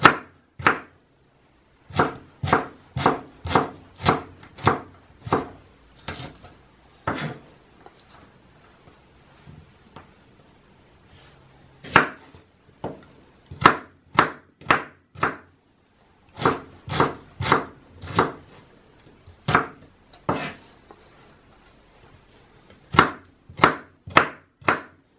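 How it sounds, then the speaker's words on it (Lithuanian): Vegetables chopped with a knife on a board into not-too-small pieces, crisp sharp knocks in quick bursts of several strokes, separated by short pauses, close and clear with no talk. "Susipjaustam. Tokiais nelabai smulkiais."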